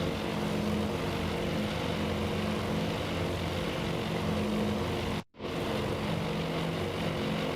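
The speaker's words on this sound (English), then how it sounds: "Those are our returning planes likely from this strike." Steady, droning engine roar of returning carrier aircraft in the naval strategy game Task Force Admiral, a continuous low hum with a brief dropout near the end, heard alone.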